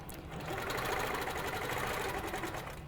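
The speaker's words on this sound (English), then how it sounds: "I'm going to stitch right along my seam line," Steady, fairly quiet hum of a sewing machine stitching along a quilt seam line against a ruler, running continuously for the whole stretch with a fine rapid needle rhythm.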